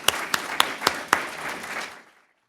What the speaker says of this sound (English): So let's give Jonah a round of applause